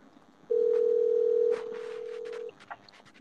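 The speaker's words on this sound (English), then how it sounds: "The fact that her phone's ringing shows that her phone's not dead." A steady electronic phone tone sounds for about two seconds on a call, loud at first and then slightly quieter, with faint background voices and noise around it.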